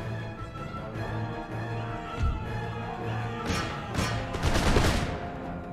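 Sepoy musket volleys in Empire: Total War crackle in a dense ragged burst toward the end, rising over a steady battlefield bed of music and ambience.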